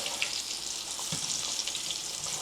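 Haitian tasso turkey pieces frying in reused oil, a continuous bright crackling sizzle with scattered pops, close and steady throughout with no talking.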